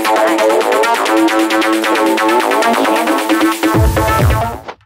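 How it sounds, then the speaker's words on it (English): Dense techno lead with acid-style synth and vocal-like tones, a loud driving stack of sustained notes pulsing steadily, ending with a deep kick drop and a quick cutoff. "And the tracks can contain vocals and acid type driving leads,"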